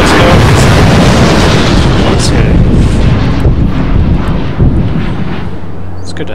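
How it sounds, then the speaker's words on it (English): Fireworks in the SimCity video game erupt as a dense, loud barrage of booms and crackling rumble that slowly thins out, with a voice speaking briefly over it. "Good to have some fireworks"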